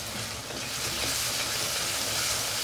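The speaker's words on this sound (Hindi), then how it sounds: "सब मसालों को हमने अच्छे से भून लेना है।" Ground spices, including coriander powder, turmeric, crushed red chili and cumin, roast in a hot pan for aloo palak, giving a dense, steady, close sizzle that holds at an even level throughout with no voices.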